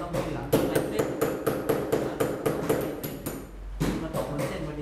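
A chisel tapped with a mallet to carve a traditional Thai shadow puppet from hide, sounding as a steady series of sharp, close knocks about every third of a second, with a brief pause near the end.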